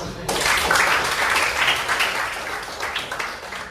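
A class applauds after a statistics lesson on finding averages, a steady wash of many hands clapping that starts abruptly and slowly thins out toward the end.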